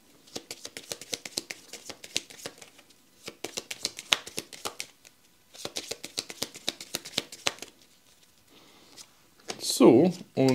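Board game cards are shuffled in three quick riffling bursts, close and crisp, followed by a short spoken remark at the end.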